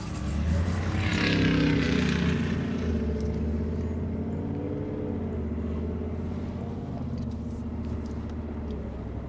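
A 2024 Ford F150 4x4 with the 5.0L V8 launches hard on Mickey Thompson ET Street tires, its engine roaring loud and close with a strong rising surge over the first two seconds, then settling into a steady, sustained drone.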